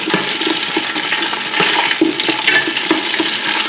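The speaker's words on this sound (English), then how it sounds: "now we are going to saute these onions for about a good 4 to 5 minutes" Chopped onions saute in olive oil in a pot, a steady broad sizzle and crackle with occasional stirring knocks, fairly loud and close, no voices.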